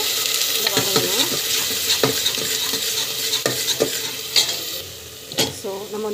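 Ground masala being stirred and sautéed in a pan for kurma, with a steady close sizzle of frying and a scrape of a spoon against the pan at regular intervals.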